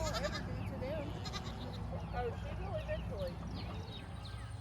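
A small goat on a homestead gives a series of wavering, mid-pitched bleats, several in quick succession, while people talk in the background.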